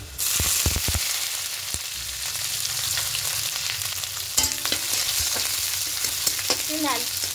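Onions sizzle in hot oil with garlic and a few torn dried red chillies, a steady crackling fry broken by occasional spatula clinks and stirring scrapes, close and continuous throughout.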